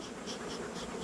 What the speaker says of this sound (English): There's plenty of bees there.